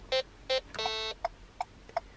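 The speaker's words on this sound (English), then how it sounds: "Two beeps is actually a left indicator." An adapted car's indicator control gives two short electronic beeps, selecting the left indicator, then a longer tone. Faint ticks from the running left turn signal follow, close and quiet.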